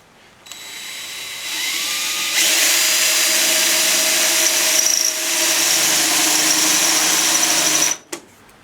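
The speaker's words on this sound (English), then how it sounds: "We're going to drill a spot just above where it was." A power drill bores a hole in an older Craftsman snowblower, running steadily for about seven and a half seconds with a whining high pitch, then cutting off abruptly.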